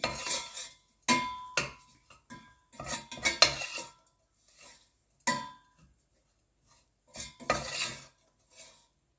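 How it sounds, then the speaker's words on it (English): A spoon clinks and scrapes against a pot in several separate bursts with short pauses between them as cumin and coriander powder is stirred into a gooseberry pickle, close and fairly quiet, with no talk. "Stir it well."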